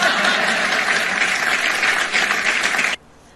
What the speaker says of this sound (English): And I thought you might clap for that.